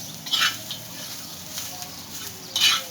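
Masala roasts on onions in a pan with a low, steady sizzle and patter, stirred in a couple of quick scraping bursts, close and moderate in level, with no talking.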